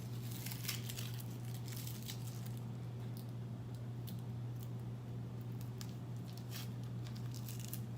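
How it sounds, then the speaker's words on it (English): A vegetable is peeled with a knife, giving faint, irregular scraping and crinkling strokes over a steady low electrical hum. "So I'm gonna go ahead and give this a peel, get all my peel out of the way."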